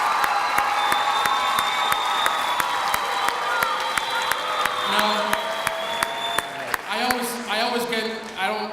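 Audience at a college and career pathways kickoff event breaks into sustained applause with scattered cheers, dense clapping filling the hall before fading as children's voices and chatter rise near the end.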